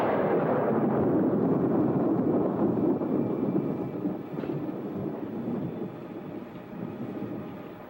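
Deep rolling thunder rumbles through a stormy weekend night, a long loud low roar that swells at first and then slowly fades and settles, with no voices.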